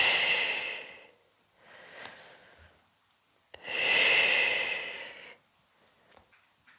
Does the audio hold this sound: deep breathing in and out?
yes